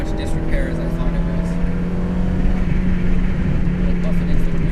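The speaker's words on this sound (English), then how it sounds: "even the most basic Miata, I'll tell you what, this pulls a lot harder than I remember my car pulling" A stock NA Mazda Miata engine pulls hard on a race track, a loud steady drone with rising pitch and wind noise, someone talking over it throughout.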